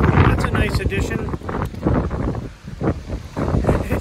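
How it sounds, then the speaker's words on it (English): Wind buffeting a microphone on a blustery day beside Lake Champlain at a Plattsburgh park, gusty rumbling bursts that rise and fall irregularly, with a voice speaking over it. "It's a windy day on the lake."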